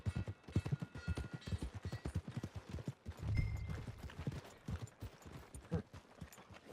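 Horse hooves clip-clop in a steady walking rhythm in Red Dead Redemption 2, close and moderately loud, with a short rumble partway through.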